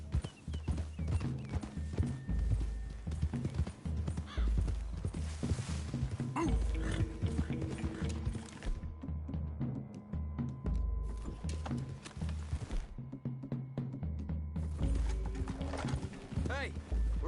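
Horses clip-clop through trees in the Red Dead Redemption 2 video game, hooves steady beneath game dialogue, music and ambient sound, with occasional faint creaks and whinnies.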